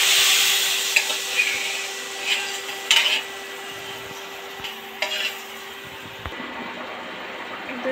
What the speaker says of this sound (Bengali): সেই তেলটা এর মধ্যে দিয়ে দিচ্ছি।